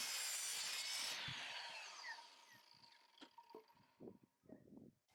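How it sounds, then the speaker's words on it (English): A power saw cuts through a deck railing board, starting with a loud rushing whine that winds down, followed by scattered knocks and scrapes of wood. "I will cut the wood on the mark and it will be perfectly fit"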